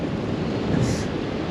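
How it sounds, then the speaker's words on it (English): Strong wind blowing across a beach on Fraser Island, Australia, a steady low rushing and buffeting against the microphone through the short moment. "the wind hasn't really changed this side"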